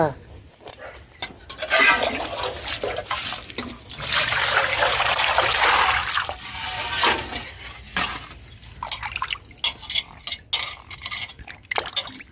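Water splashes and trickles steadily while fresh fish are rinsed clean by hand, close and fairly loud, with a person talking over the running water.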